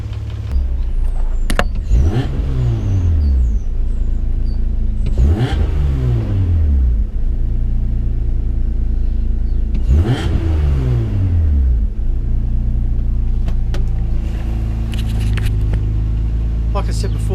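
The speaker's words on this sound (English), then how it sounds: "A little bit of clacking noise coming from the lifters." Car engine idling after a throttle body cleaning, a steady low hum with light lifter clatter, broken by three quick revs that rise and fall, with background sounds over the idle.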